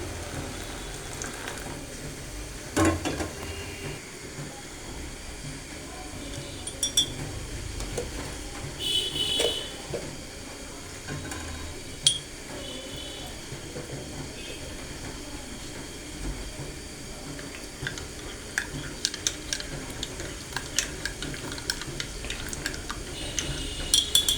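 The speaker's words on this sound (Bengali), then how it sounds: "এই যে এদিকে মাংস রান্না করা হচ্ছে" Meat cooks in a pan with a steady, moderately loud sizzling hiss. Scattered sharp crackles and pops break through now and then, with no talking.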